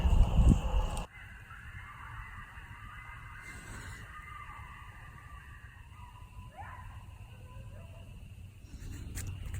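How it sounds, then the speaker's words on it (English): Coyotes howl and yip faintly in the distance on a full-moon spring night, thin wavering calls over a quiet outdoor background after a brief loud rustle close by. "Some coyotes at night."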